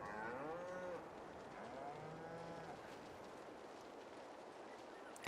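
Cattle lowing inside a cow barn in Farming Simulator 22, several drawn-out moos over the first few seconds, then a steady murmur of barn ambience, close and clear with no talk.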